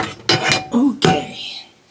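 A ceramic non-stick GreenPan frying pan is lifted and handled nearby, giving a few sharp clanks and knocks within two seconds, then fading to quiet.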